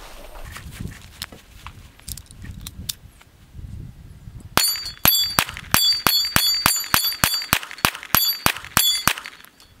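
A Sig P320 X-Ten pistol firing Federal ammunition at a range: a few faint distant shots and shuffling at first, then a close, loud string of about fifteen sharp, evenly paced shots.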